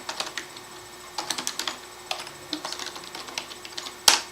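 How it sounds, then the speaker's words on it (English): Quick keystrokes on a computer keyboard, typed in short irregular bursts with brief pauses, fairly close and clear, ending in one sharper louder click; no one talks over the tapping. "I knew I wasn't typing priority correctly."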